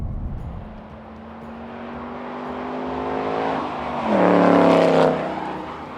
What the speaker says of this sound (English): This thing makes sounds that very few other cars on the planet can match